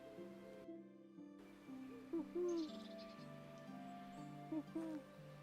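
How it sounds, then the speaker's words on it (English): Owl hooting in the video game Medieval Dynasty: soft, faint calls repeating a few times over a quiet in-game musical drone, with no speech over them. "Now I can hear an owl."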